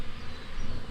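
Dense swarm of honeybees knocked from a limb into a box, a steady low buzzing hum that fills the whole moment without a break.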